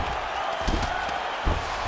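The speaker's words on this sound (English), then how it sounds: "big pop from the crowd as they get back to their feet after a pretty scintillating grappling battle there on the ground" Crowd noise in a UFC heavyweight fight simulation video game, a constant roaring wash of arena cheering with a couple of brief thumps, steady and loud throughout.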